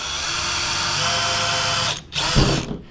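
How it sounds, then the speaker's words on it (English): A power drill whirs steadily and close, briefly dropping out before a second burst grinds in, boring down through a fishing net handle. "You're gonna drill all the way down through it"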